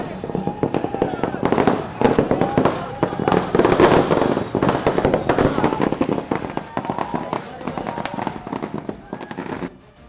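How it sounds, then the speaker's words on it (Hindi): Firecrackers burst in rapid, dense volleys at a BJP victory celebration, loud and continuous for several seconds with voices mixed in. "पटाखों की आवाज से पूरा इलाका गूंज उठा।"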